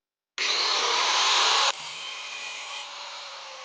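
A bench grinder sharpening an 8 mm drill bit whirs on, loud and harsh for about a second, then settles into a steadier, quieter grinding drone.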